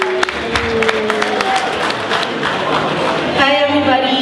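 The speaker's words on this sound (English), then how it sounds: "How about a big round of applause?" Applause with some cheering from the audience at a Filipino American media awards event, a steady crowd wash mixed with voices and a host speaking over it.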